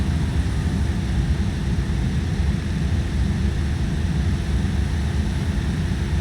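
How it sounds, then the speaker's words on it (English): An aircraft propeller overspeeds in the X-Plane 12 flight simulator, with full flaps and gear down. It makes a steady, loud, low engine and propeller drone that holds evenly throughout with no talk. "Overspeed on the propeller."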